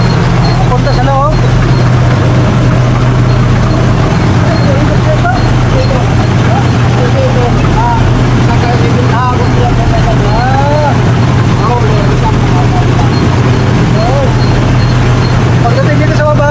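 A shredder machine grinds organic poultry feed made from palay with a loud constant low mechanical drone throughout, while someone talks over the noise.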